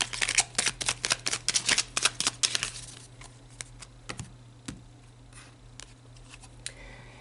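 Tarot cards are shuffled in a quick run of crisp, riffling slaps for about three seconds, followed by a few sparse card taps and soft handling sounds, close and fairly quiet.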